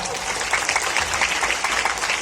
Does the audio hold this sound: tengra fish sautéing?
no